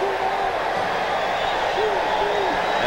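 Loud stadium crowd of nearly 50,000 at a USFL football game in Birmingham, a continuous dense roar filling the air with faint voices rising briefly above it.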